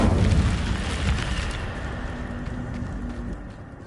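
A fire spell cast in a video game produces a deep whooshing burst of flame that is loudest at the start and then slowly fades into a rumbling roar.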